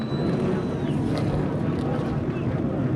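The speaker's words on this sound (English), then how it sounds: "you can't beat that throaty roar of the V8 that Johnny O'Connell has underneath him" V8-powered Cadillac race cars in a Pirelli World Challenge race start together, producing a dense, continuous roar that blends into broad, wind-like noise without clear individual engine notes.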